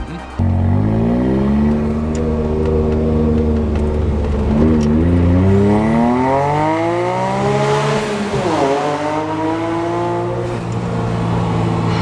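A 1994 Suzuki Cappuccino's small turbocharged engine revs up loud and close, climbing and falling in pitch over several pulls, with turbo flutter audible between throttle blips.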